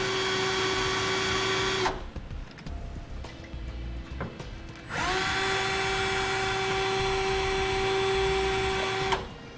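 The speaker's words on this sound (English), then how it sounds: "We'll go ahead and drill up 2 lower holes using a bit that matches the bushing right here." A power drill bores pilot holes for an air compressor setup on a 2011 Ford F-250, with two long, steady high-pitched whining runs separated by a short pause.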